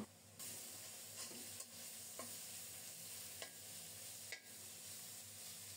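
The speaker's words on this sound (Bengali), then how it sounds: "ধুন্দুলটাও মশলার সাথে কষিয়ে নিচ্ছি।" Sponge gourd being sautéed with spices in a pan hisses and sizzles steadily, with a few brief stirring scrapes cutting through the constant frying noise.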